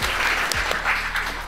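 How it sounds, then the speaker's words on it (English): An audience on a dating show claps in a steady wash, moderately loud, with a low hum running underneath and a couple of sharp knocks partway through. "Let's clap for them"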